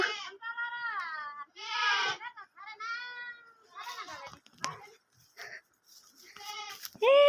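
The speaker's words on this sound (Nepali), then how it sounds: "यहाँ बाख्राको खोर हो" Several goats bleat loudly in wavering cries, close by in their pen, with quieter rustling and a few faint calls in between.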